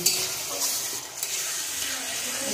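Winter vegetable spice paste with mustard and ginger frying in oil, a continuous close sizzle with scraping stirring strokes and no talking.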